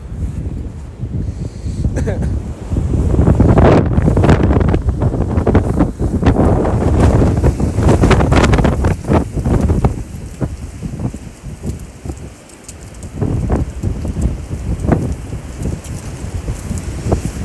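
Strong windstorm gusts of 40 to 70 mph roar across a freezing lakeshore in Oswego, buffeting the microphone in loud, continuous rushes that swell and ease, with brief speech in places.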